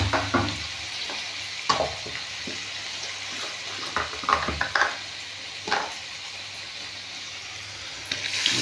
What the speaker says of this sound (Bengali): মশলা দেওয়া জলটা আমি দিয়ে দিচ্ছি।